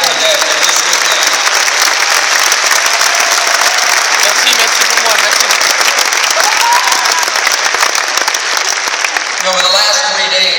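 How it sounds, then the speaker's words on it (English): Audience applause at a weekend event in Rotterdam, a dense, steady clapping wash from a large crowd filling the whole stretch at high level, with faint voices and a whistle or cheer rising near the end. "give yourselves a round of applause for showing up to Rotterdam today, this weekend"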